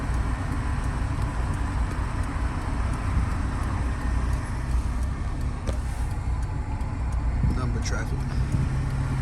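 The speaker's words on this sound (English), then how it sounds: "Traffic." Steady road traffic rumbles from passing cars on a street at night, a continuous low wash of engine and tyre noise heard from inside a Honda RSX with a K24 engine.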